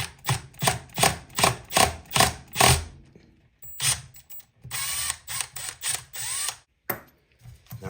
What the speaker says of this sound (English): I like to take my Milwaukee impact gun, my Surge, grip the clutch like this, as tight as I can, and take off the center nut